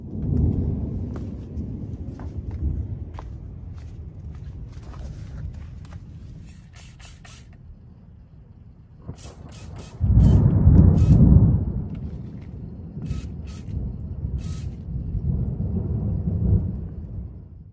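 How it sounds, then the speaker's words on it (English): Thunder from an approaching lightning storm during monsoon season, heard from an RV campsite: long low rumbles that swell loudest midway, with a softer rolling rumble trailing afterward and no voices. "lightning storm is headed right this way"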